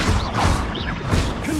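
Confringo and Incendio spell effects in the Hogwarts Legacy video game, loud dense whooshing blasts and crackling fiery bursts layered over each other in a short, busy flurry.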